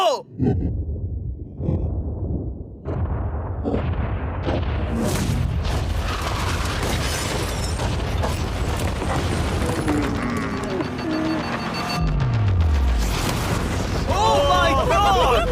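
A yacht being blown up: a heavy boom and rumbling blast build and roll on, with crackling debris and a falling whistle, as voices react over it.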